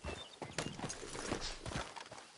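Horse hooves clip-clopping in the Red Dead Redemption 2 video game, irregular close thuds with soft snorting as the horse stumbles and collapses, and no talk.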